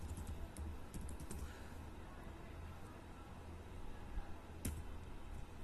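Fast, light clicks of a computer keyboard as shortcuts are typed in Excel, close and fairly quiet, a steady patter with a couple of sharper key taps.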